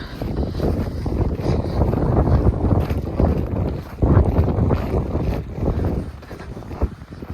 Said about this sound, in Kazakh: Жұттай бүгін күн бұзылады. Желдетіп тұр ғой.